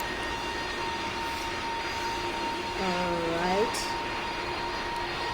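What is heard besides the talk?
Boeing airliner on final approach, Roblox PTFS video game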